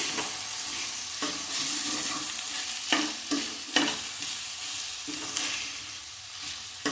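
Rice grains stir-fried dry in a pan for coconut rice, giving a steady sizzle broken by scraping strokes of the spatula, with a few sharper knocks of utensil on pan, close by and without any voices.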